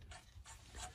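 A ratchet tightens bolts on a Mazda RX-7 FD diff brace, giving three short bursts of close, crisp clicking spread across a single second.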